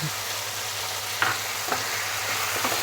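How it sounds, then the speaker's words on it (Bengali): Salted hilsa fries in a pan as slit green chillies go in, a steady close sizzle with a few soft stirring scrapes and clicks. "এর মধ্যে আমি চেরা কাঁচা লঙ্কাগুলো দিয়ে দিচ্ছি"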